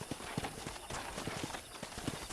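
Horse hooves clip-clopping in the video game Red Dead Redemption during a cattle-herding ride, a steady faint rhythmic trot under a wash of ambient background noise.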